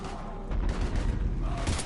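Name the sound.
gunfire in the video game Mass Effect 3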